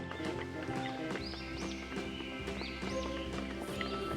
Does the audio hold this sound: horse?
yes